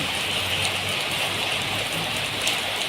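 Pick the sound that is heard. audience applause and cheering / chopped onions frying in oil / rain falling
rain falling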